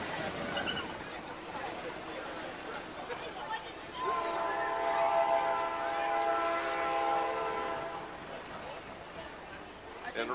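A train rolls past a 2014 89er parade, its steady rumble joined midway by a loud, sustained horn blast lasting several seconds before fading back into the rolling noise and background crowd.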